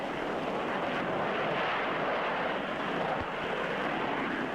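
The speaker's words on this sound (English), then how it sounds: "a Canberra B-2 takes off with extra boost from a Napier Scorpion rocket engine." A Canberra B-2 jet bomber taking off with boost from a Napier Scorpion liquid-propellant rocket engine, a loud, steady broadband roar that fills the whole clip without letup.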